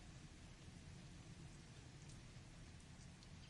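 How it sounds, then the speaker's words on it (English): Steady rain from a storm falls outside a window, a dense, even hiss of drops on surfaces with a low rumble underneath, continuous and moderately loud with no talk. "With the storm outside the window and the rain is running out in the background"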